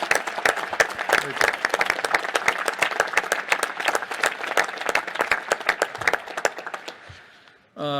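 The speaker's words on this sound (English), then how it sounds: "How about a round of applause for this whole panel?" A crowd at a National Space Council meeting applauds a panel, a dense burst of many hands clapping that fades out near the end, followed by a brief sound at the very close.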